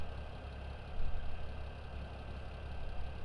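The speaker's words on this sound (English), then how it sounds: "Yeah, this tractor's a bit loud." John Deere 4840 tractor engine in Farming Simulator 17, a steady low idling rumble that is moderately loud and continuous, heard alone without speech.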